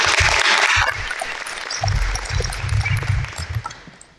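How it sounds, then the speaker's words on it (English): Audience applause at a school awards program for a girls' JV team, a dense burst of clapping in the first second that thins out, then scattered claps and room noise returning at moderate volume. "All right, let's give our JV only Lady Rockets one more round of applause."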